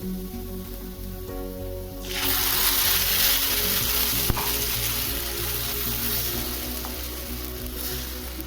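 Tomato puree hits a hot pan and the sizzle suddenly swells into loud, steady frying with faint stirring, close up.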